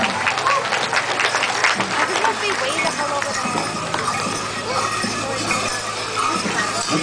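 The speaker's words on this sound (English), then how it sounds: "How about a big round of applause?" Applause from a crowd at a chicken dance event, steady dense clapping throughout with a voice talking over it.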